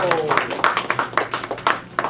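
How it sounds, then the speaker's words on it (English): An audience claps for a speaker at a Warehouse Workers for Justice event, a short run of scattered, fairly close handclaps with a voice speaking over them. "Let's give a rousing round of applause to Roberto Jesus Clark."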